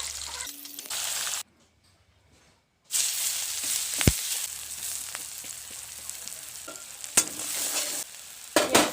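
Onions sizzle and fry in a pan while being made into fried rice, giving a steady soft hiss broken by a short silent gap and sharp stirring clatters against the pan.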